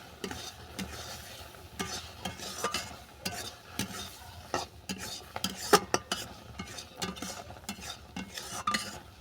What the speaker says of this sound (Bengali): মশলাটা ভালো করে মিশিয়ে নিলাম